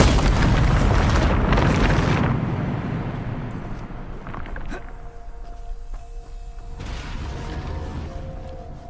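A Bombarda spell in Hogwarts Legacy bursts with a loud, roaring explosive boom that rumbles and fades over several seconds, followed by softer mechanical game sounds and tonal effects.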